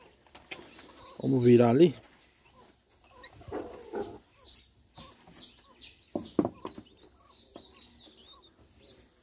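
Quails kept in cages on a small egg-laying setup give a scatter of short chirps and cheeps, with a brief burst of louder activity near the start, while a person talks nearby between the calls.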